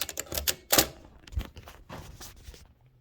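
A 1920-1922 Helios-Klimax typewriter with a cylinder type element, giving sharp mechanical key strikes and clacks in an uneven run with one heavy thunk, close and clear.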